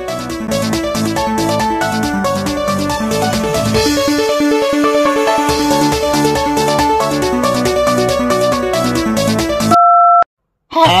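Phone call tone, a repeating busy-signal-like beeping pattern over music, then a brief isolated two-tone beep after the music cuts out near the end.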